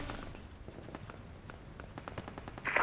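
Sharp gunshot cracks pop out of a noisy Project Reality firefight, a shotgun blast among them, loose and irregular, mid-distance, with a louder burst at the very end and no talking.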